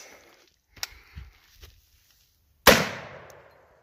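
.50 Beowulf rifle with an 18 inch barrel firing a 350 grain bullet, one loud sharp gunshot with a ringing decay after a few faint knocks and handling sounds.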